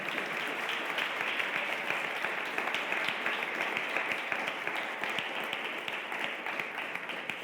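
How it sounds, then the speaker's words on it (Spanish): Church congregation claps steadily during a worship service, a sustained wash of many hands at moderate volume with no clear pauses and no talk on top. "Denle un fuerte aplauso"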